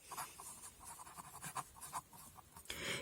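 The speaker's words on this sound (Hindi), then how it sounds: "तो यहां लिखते हैं रे OS" Chalk or marker scratches in short bursts across a board while a geometry problem is worked out, faint and close, with brief pauses between strokes and no talk.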